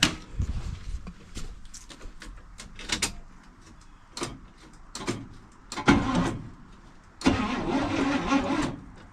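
An old IH pickup that has sat for nearly 30 years cranks over on its starter in several short, uneven bursts, with pauses between them and a longer final churn.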